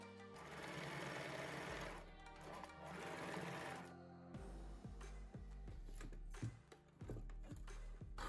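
A sewing machine topstitches a fabric pouch for storing large-format sheets, running in two loud, steady bursts of rapid stitching before slowing into separate clacking thumps of the needle.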